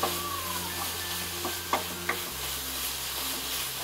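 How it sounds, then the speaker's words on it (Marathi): Jaggery modak filling being stirred in a pan, a quiet, steady scraping with a few sharp clicks of the spoon against the metal over a low background hum. "हे असं चांगलं हलवून घ्यायचं की पूर्ण गूळ त्याच्यामध्ये मिक्स झाला पाहिजे"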